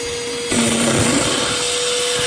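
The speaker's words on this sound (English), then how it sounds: "I thought I would try now the vacuum in this little cup of water here" A handheld cordless wet dry vacuum runs with a steady loud whine, then a gurgling, slurping rush as it sucks up water from a small cup, close and continuous.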